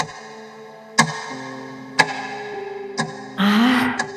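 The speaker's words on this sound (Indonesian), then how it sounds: "Suara jam dinding itu dengan ketukan yang teratur." Steady ticks from a wall clock land once per second, four crisp clicks in even rhythm, with a brief rustling or breathy noise late in the sequence in a quiet room.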